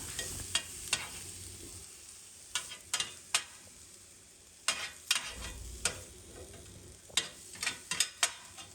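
Grated coconut lightly roasting in a pan, with repeated sharp scraping and clicking strokes of a spatula stirring it over a soft, low sizzle, in irregular bursts.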